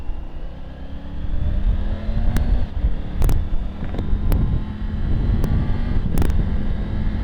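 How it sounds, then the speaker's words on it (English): A 2023 Triumph Tiger 900 Rally Pro triple with a 1-3-2 firing order hums under heavy wind rush while riding, the engine note rising and falling with several sharp clicks and knocks, close and steady. "The engine noise is very nice due to that different kind of firing order 132."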